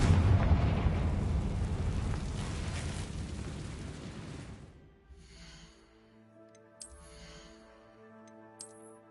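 Confringo fire spell explosion in Hogwarts Legacy, a deep loud blast rumbling and fading over several seconds, followed by quieter game music tones and small chimes.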